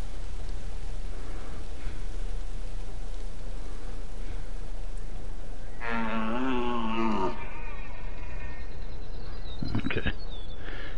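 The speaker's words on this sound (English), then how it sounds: "I think I'm gonna get a little rain." Steady hiss of rain falling in the hunting game theHunter: Call of the Wild, a constant broadband wash throughout, with a brief animal-like tonal call rising midway and a few sharper sounds near the end.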